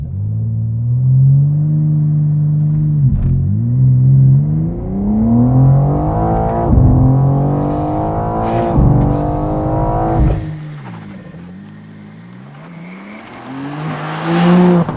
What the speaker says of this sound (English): '23 BMW M4 CSL with launch control.